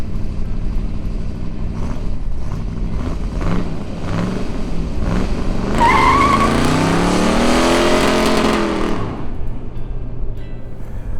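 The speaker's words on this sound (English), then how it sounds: "Lifting the clutch and stomping the gas creates a fore and aft rocking as the Super 7 squats under the torque" A 1967 Ford Galaxie 7-Litre with the R-code 427 V8 launches hard off a dropped clutch, its loud, close engine roaring up through a rising rev sweep with tire squeal before easing off.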